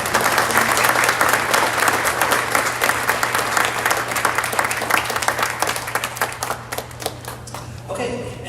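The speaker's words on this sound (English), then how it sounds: "So can we have a round of applause from everyone for Barb Engelbart?" An audience at a band clinic gives a warm round of applause, many individual claps rising to a dense peak and then thinning out toward the end, with a low steady hum underneath.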